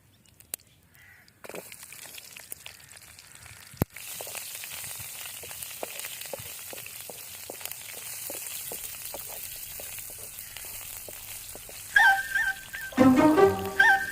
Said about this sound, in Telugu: ఫస్ట్ ఆవాలు వేస్తున్నాం, తర్వాత మిర్చి, తర్వాత ఆనియన్స్ కూడా వేసుకున్నాం.